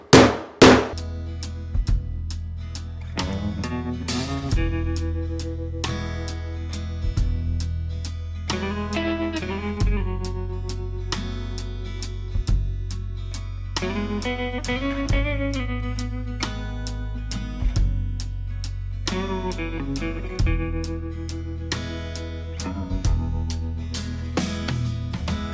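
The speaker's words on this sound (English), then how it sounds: "we're gonna beat the hell out of the center and see if we can make it a little deeper." Metal is hammered at the centre to deepen it into a bowl, a long run of sharp ringing blows in uneven bursts with pauses between, loud and close, with no talk.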